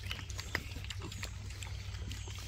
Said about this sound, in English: So we've got all these older pigs.